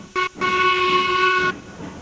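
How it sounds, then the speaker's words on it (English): Steam locomotive whistle from the train game Railroads Online: a short hissing toot followed by one loud, sustained chime-like blast of about a second, mixed with steam hiss, with no talking. "Worst whistle in the game."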